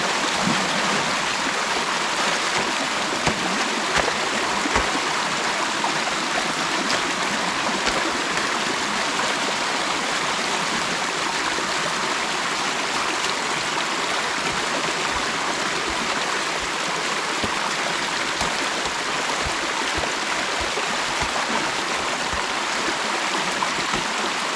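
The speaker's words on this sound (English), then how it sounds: "Water." Steady, loud rush of water pouring through and over a beaver dam built of chewed sticks and wood, continuous and close with no pauses.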